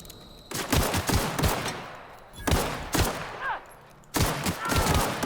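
Several bursts of gunfire from The Outer Worlds video game, sharp loud volleys separated by short pauses, with metallic clinks and echoing tails between shots.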